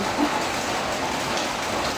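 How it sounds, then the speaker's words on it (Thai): Steady rain falling in a Thai village, an even broadband hiss that stays constant and fairly loud throughout, with no voices. "วันนี้ฝนตก"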